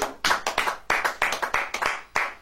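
A worship congregation claps in a quick, steady rhythm, about a dozen sharp hand claps in a row, fairly faint and with no voices over them.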